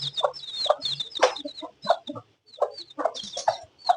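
Several chickens cluck and chatter close by in quick, overlapping bursts, with higher peeping calls scattered throughout.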